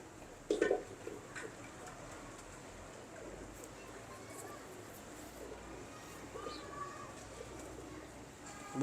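A flock of old pigeons of the Lakhi breed coo softly in a loft, low murmuring calls that come and go against background hubbub, with a couple of louder bumps.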